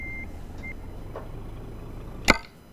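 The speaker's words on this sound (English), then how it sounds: "You guys would probably appreciate it if I turn off that backup beep." Two short electronic backup beeps sound from a reversing truck in the Euro Truck Simulator 2 video game, followed later by a single sharp click over a low, steady engine hum.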